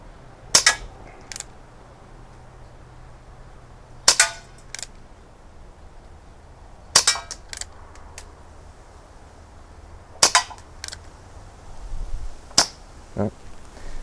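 Shots from an Umarex Colt Peacemaker CO2 air pistol, five sharp cracks spaced a few seconds apart with brief impact clatter after each, loud and close in a quiet outdoor setting.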